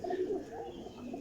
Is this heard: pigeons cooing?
yes